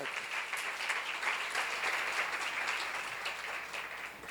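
A congregation at a Korean church seminar claps together in a continuous, moderately loud round of applause that holds steady for several seconds.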